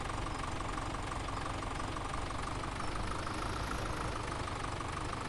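Tractor engine idling in Farming Simulator 17, a dense steady knocking rumble that holds a constant loud level throughout with no voices over it.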